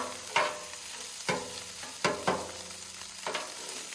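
Rice sizzles steadily on a hot flat Blackstone griddle, with occasional scraping taps of a spatula stirring and breaking it up.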